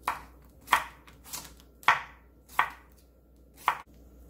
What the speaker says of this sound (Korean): 오이를 채 썰어 줄게요.